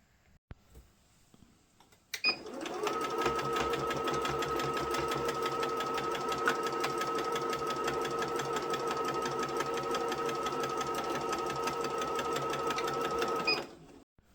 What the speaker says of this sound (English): take it over to the sewing machine and use a 1/4 inch seam allowance, carefully sew all the way around